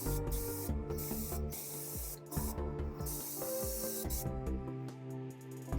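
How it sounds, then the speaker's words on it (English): Bursts of aerosol spray paint hiss onto Battletech miniatures at close range, several short and longer sprays separated by brief pauses, over faint musical background tones. "we can do this by kind of maintaining the angle we spray, so we're minimizing where things go that we don't want it going"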